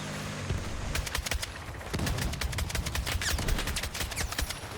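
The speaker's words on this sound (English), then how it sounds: "that's the SCAR outgunning a DMR right there" A SOR-556 (SCAR) assault rifle fires in Battlefield 6 at mid to long range, in rapid bursts and sustained volleys of sharp, loud cracks with other gunfire mixed in.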